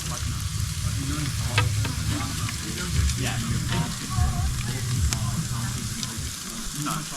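Steak frying in a pan at a bush campsite in Crows Nest National Park, Queensland, with a steady continuous sizzle throughout and a few faint clinks and background sounds.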